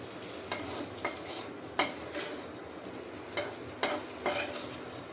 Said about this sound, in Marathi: मी शेंगदाण्याचं कूट टाकून देते.